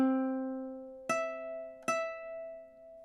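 Ukulele plays measure 9 of The Star Spangled Banner, three clean plucked chords or notes spaced about a second apart, each ringing out and decaying, soft and close with no talking.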